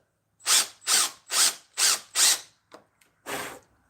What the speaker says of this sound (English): And I'll just drill the hole.